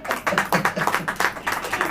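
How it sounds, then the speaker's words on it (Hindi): Church congregation clapping during a sermon, a steady rhythmic beat of hand claps repeating about every quarter second, loud and close. "ताली हो जाइए"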